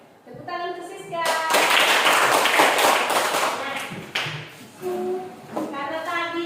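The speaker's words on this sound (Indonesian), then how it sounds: "Tepuk tangan ke Siska" Children in a classroom clap for a classmate named Siska, a burst of lively hand claps that swells and then fades, with young voices speaking before and after.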